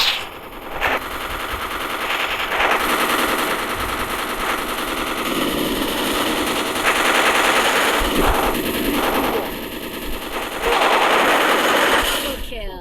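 Rapid automatic gunfire in a shooting video game, a dense, loud and nearly unbroken rattle of bursts throughout, with a player talking over it.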